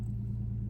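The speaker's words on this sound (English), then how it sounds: "while I let the car warm up" A car engine idles steadily while warming up, a low, even rumble with a constant hum, close and continuous throughout the short moment.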